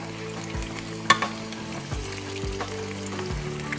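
Breaded green tomato slices frying in a pan, a steady close sizzle broken by a few soft thumps and scrapes as the slices are flipped.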